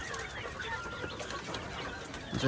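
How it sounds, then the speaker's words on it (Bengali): Roosters cluck close by in a farm pen, a continuous busy clutter of overlapping calls with no single clear crow, holding steady and swelling slightly louder at the very end. "এখানে হচ্ছে সবগুলো মোরগ"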